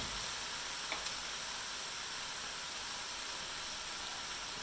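Onions frying in a pan for gluten-free fajitas, giving a steady, soft sizzle and hiss that carries on evenly with no talking over it.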